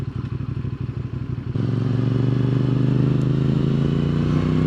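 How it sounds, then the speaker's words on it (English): A 2023 CFMOTO 450SR twin-cylinder motorcycle engine idles with a rhythmic, lumpy exhaust thump, then opens up into a steady, louder drone close by. "You get that nice twin sound from that exhaust."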